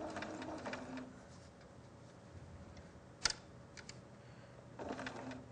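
A sewing machine stitches layers of fabric in a quilting project, running in short bursts with a quieter pause between them and a sharp click partway through.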